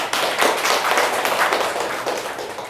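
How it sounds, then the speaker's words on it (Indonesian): A classroom audience claps together in steady applause, a dense patter of hand claps that swells at the start and holds fairly loud for a few seconds before thinning slightly toward the end. "Boleh diberi aplaus."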